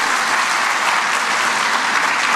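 Seminar audience applauding in a hall during a corporate tax seminar, thick continuous clapping from many hands, loud and even throughout with no speech over it.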